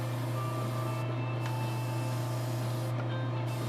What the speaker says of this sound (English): Trying to spray a little lighter because I don't have perfect masking up top